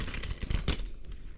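Tarot cards shuffled up close in a quick, dense papery rattle of overlapping flicks, fairly loud and steady for about a second and a half, with no voices.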